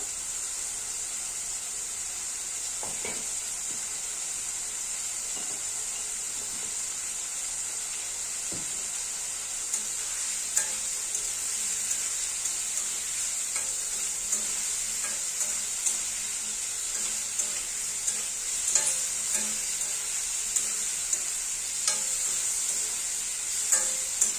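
Fish curry with radish and potato being sautéed and stirred in a pan, with a steady sizzle of hot oil throughout and scattered scrapes and taps of the spoon, growing a little busier toward the end, no talking.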